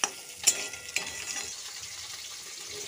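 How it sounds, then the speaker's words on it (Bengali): Egg being stirred into spiny gourd bhujia in a hot pan, with a few utensil scrapes near the start over a soft, steady frying hiss; no voices. "ডিমটার সঙ্গে আমি এবার এই ভুজিয়াটাকে মিশিয়ে নেব।"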